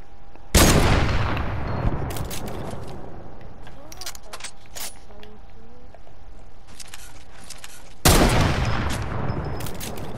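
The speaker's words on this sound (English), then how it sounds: "Dude is literally shooting me with a deagle instead of a sniper." Desert Eagle pistol fire in the Fortnite video game, two loud, sharp blasts several seconds apart with a burst of quicker, fainter shots and clicks in between, over a busy game background.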